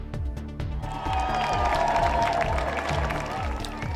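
Steady applause and some cheering from a crowd as the King arrives at Buckingham Palace ahead of the state funeral, sustained at moderate level with scattered claps.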